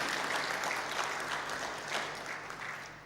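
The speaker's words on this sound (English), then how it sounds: "May we add Dr. Kamya a loud round of applause." Audience at a child and family protection curriculum launch applauds steadily, a dense even wash of many hands clapping at once, moderately distant and fading slightly toward the end, with no voices over it.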